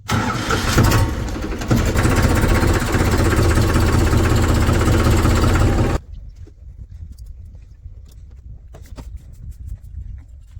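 A tractor engine runs loud and steady for about six seconds, then cuts off sharply, leaving a quiet stretch of faint clicks and background noise.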